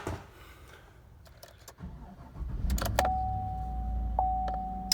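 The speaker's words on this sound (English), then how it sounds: "put our stock intake back on and start up the motor" A Chevrolet Silverado with a 5.3 or 6.2 V8 engine cranks and starts after some quiet handling sounds, then settles into a steady close idle with a faint whine.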